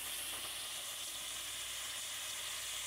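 Potatoes fry in a pan, giving a soft, even sizzling hiss that holds steady throughout without breaks or voices.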